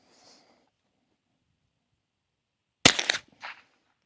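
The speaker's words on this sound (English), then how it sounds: "let's shoot a 5-shot group at the top right target" Sharp gunshots from a Bear Creek Arsenal BC-201 .22 Magnum rifle firing a five-shot group at a paper target, heard as a tight cluster of loud cracks, then one more report shortly after, with near silence before.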